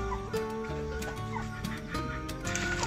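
A sick hen with a cold at a poultry farm clucks and makes soft, croaky vocal calls in a quiet, close series, with other fowl murmuring faintly nearby.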